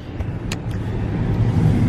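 Steady low road rumble from inside a moving car on a cold day, a continuous engine and tyre drone with a few faint clicks near the start and no talking.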